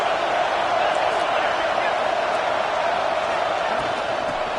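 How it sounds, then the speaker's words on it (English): A packed stadium crowd at a Miami versus Florida State football game roars in a continuous, even wash of noise, loud and unbroken across the whole stretch. "This crowd bringing the energy and noise early."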